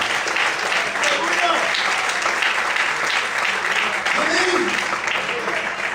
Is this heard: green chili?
no